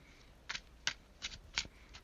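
Tarot cards are shuffled by hand in a quiet room, with five soft riffling bursts at a steady rhythm, close and faint with no talk.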